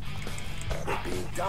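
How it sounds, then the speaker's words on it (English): Dog barking and yipping over online game voice chat during a Black Ops 2 match, a few quick barks through a headset mic mixed with a raised voice in the background. "He's definitely raging at the dog."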